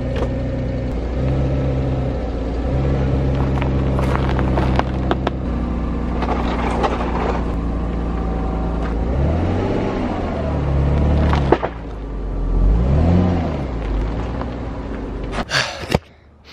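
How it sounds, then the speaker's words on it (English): Audi A4 B5 engine cranking and starting for the first time with a new exhaust fitted, then idling and giving a few blips of revs, close by with some hissing and handling noise. "this is gonna be the first start with the exhaust on."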